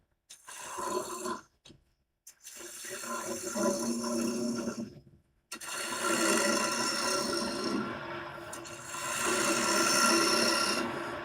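A fresh wood log being rough turned into a bowl on a lathe at about 1600 RPM, a loud continuous rasping, scraping cut with brief pauses as the tool lifts off, close up.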